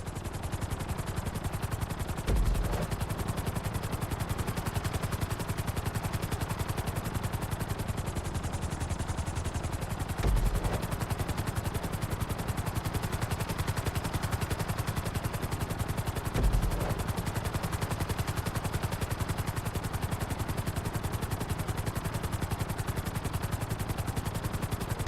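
Helicopter flying in GTA, a loud, steady rotor drone with a fast, regular chopping pulse that continues throughout. A few heavier thumps break through it.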